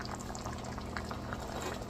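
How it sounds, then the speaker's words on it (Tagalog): Breadfruit simmering with coconut milk in a cooking pot, a steady bubbling boil with soft liquid popping and crackle throughout, close and even in level. "Pakuluan lang natin."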